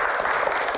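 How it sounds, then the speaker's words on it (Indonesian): A studio audience on a talk show claps for a guest, a brief burst of dense, steady applause close by. "tepuk tangan buat Mas Adi"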